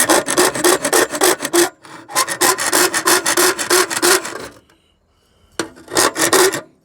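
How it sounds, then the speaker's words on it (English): Copper bus bar from a disassembled electric motor being worked with a hand file, giving loud, close rasping strokes in quick rhythmic bursts, with a brief pause before the filing resumes. "We'll use this handy file here."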